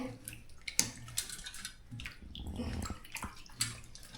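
Tomatoes are washed under running tap water in a kitchen, a steady close splashing with occasional knocks and clunks against the basin.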